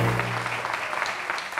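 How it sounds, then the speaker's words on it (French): Brief burst of audience applause at a French-language event, dense steady clapping with a low hum at the start, close and fairly loud. "Je vous demande déjà d'applaudir ça"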